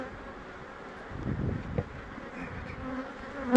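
Honeybees drone continuously in an opened hive while it is being split, a close, even buzz with a few louder swells as bees pass near.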